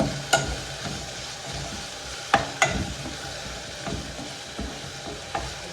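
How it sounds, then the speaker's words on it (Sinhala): Spicy noodles with sauce, leeks and tomatoes are stirred in a hot pan: a steady close sizzle with scattered sharp clicks and scrapes from the utensil against the pan, and no voices. "දැන් සෝස් එකක් දාලා හොඳට මික්ස් කරගන්න"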